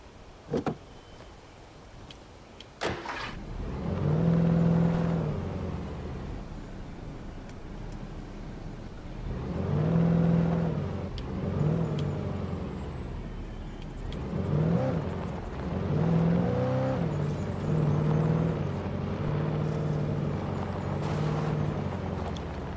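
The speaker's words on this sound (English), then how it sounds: "I think we take the car." A car in the video game Alan Wake drives and accelerates, with repeated rising engine whines in bursts over a low steady hum, moderately loud, no talk.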